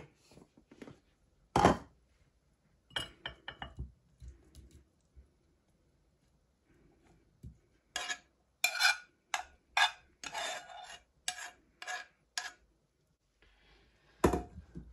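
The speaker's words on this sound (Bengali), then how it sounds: "এখন আমি আলুগুলোকে এটার মধ্যে দিয়ে দিব।" Potatoes are tipped into a bowl in several distinct bursts of tumbling, thudding clatter spread across the clip, with short gaps of near silence between them and no talk.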